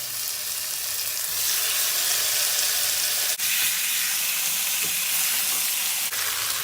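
Chicken pieces fry skin-side down in hot oil in a pot, giving a loud, steady sizzle and hiss that continues throughout, with a couple of faint clicks.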